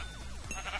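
Minecraft sheep let out one short, nasal bleat in the video game, close and clear with nothing else around it.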